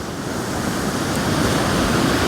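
Stormy sea waves roll onto an Odesa beach in a steady, loud, continuous roar of surf with wind noise, no voices.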